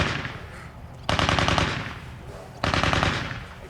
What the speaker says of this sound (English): I'm going to wait till they stop shooting.